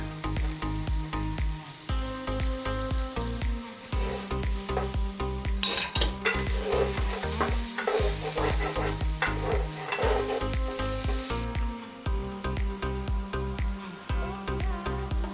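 Garlic sizzles in a hot wok for chicken egg fried rice, a steady loud frying hiss broken by repeated scrapes and clinks of stirring, with music playing under it.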